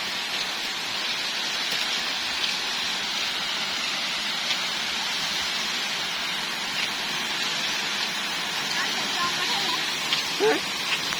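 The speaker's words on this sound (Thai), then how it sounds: "น้ำตกทานทิพย์มีทั้งหมด 3 ชั้นนะคะทุกคน นี่คือชั้นที่ 1 ค่ะ" The first tier of Than Thip Waterfall in Sangkhom, Nong Khai, gives a constant hissing rush of falling water, steady and fairly close, with a faint voice briefly near the end.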